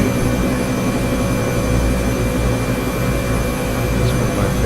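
Steady, loud jet engine roar fills the cabin of an airliner in cruise flight over El Calafate, Argentina, a continuous broadband drone with low rumble and no breaks.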